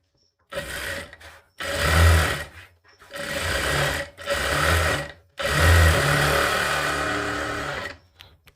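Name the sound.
sewing machine stitching a katori blouse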